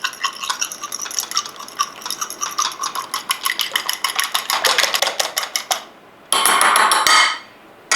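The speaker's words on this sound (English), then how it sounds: "Now we can use the same fork to whisk the egg." An egg is beaten with a fork in a bowl during tonkatsu preparation: fast, steady metallic clicking and scraping against the bowl, close and loud, with a short pause before a final burst of whisking.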